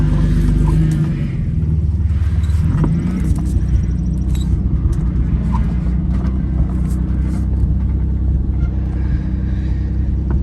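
A first-generation Ford Bronco's engine runs while the truck drives around a yard, giving a steady, loud, low rumble that stays close and continuous throughout.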